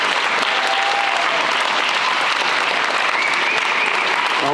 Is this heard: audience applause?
yes